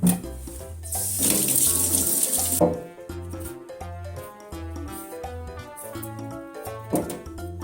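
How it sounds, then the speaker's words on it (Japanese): Potatoes washed under a running kitchen tap, a short rush of water lasting under two seconds, set against steady background music that carries on afterward. "じゃがいも洗って皮むきます"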